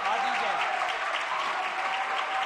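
A seated audience at a Jain religious gathering in Agra gives sustained, dense applause honouring a student who placed first in second year, with the clapping steady and loud throughout.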